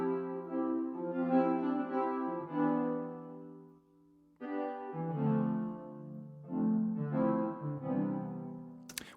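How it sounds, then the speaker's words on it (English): A spaced-out, mid-range whirly synth from the Serum preset Key Future Whirly plays alone in sustained, swelling chords that pause briefly midway before returning. "So what I did was I used a preset in Serum from my friends at Singular Sounds called Key Future Whirly."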